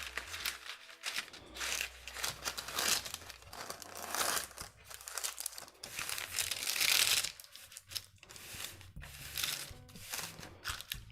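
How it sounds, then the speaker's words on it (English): Parchment paper crinkles and rustles in bursts of handling, close up and fairly loud, with no talking. "A sheet of parchment paper."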